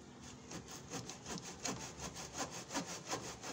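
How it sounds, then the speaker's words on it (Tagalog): Steady back-and-forth strokes of a hand saw biting through wood, a regular rasping rhythm of about ten strokes, close and fairly loud, while repairing a refrigerator door. "Gamit natin tong lagari. Puputulin natin siya rito."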